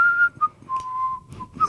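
A person whistles a short tune, several clear bright notes with brief pauses between them, close and alone with no talking.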